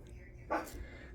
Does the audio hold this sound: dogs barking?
yes